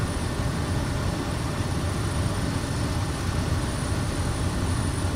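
A Kodiak 100 single-engine turboprop in Microsoft Flight Simulator 2024 with its RPM pulled back to 2,000, giving a steady, loud broadband engine and propeller drone that holds even throughout, with no talk.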